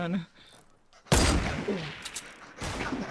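A heavy burst of video game gunfire erupts in a sniper shootout mode after a quiet moment and then trails off, with players talking around it.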